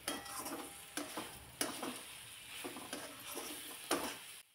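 Soybeans being stir-fried in masala in a pan for a curry, with a steady sizzle and repeated scraping stirs of a spatula at an irregular rhythm, close and moderately loud, no talking.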